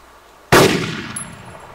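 A single sharp gunshot in the ArmA hunting simulator game, loud and close with a metallic ring that decays over about a second, alone without talk.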